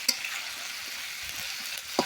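Beef frying in a pan after ginger paste is added, a soft steady sizzle with a few stirring scrapes and clinks, faint and close.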